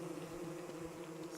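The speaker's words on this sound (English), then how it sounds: "We're at the bee biome." Buzzing bees in the bee biome of Don't Starve Together, a steady low drone that holds evenly through the whole stretch without any speech.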